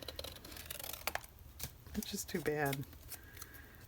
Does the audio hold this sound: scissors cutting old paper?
yes